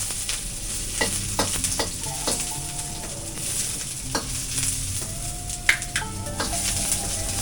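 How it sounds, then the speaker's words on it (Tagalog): Onion, garlic and ginger sauté in hot oil for a tinola base, a steady sizzle broken by scraping stir strokes and occasional light utensil clinks against the pan, with no talking. "Una, igigisa na natin ang ating sibuyas, bawang at yung ating luya."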